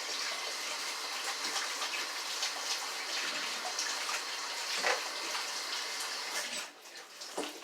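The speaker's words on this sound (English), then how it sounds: "Now I'm going to wash my hands right quick" Hands are washed under a running tap, a steady close rush of water with splashes and gushes as the hands move through the stream, easing off near the end.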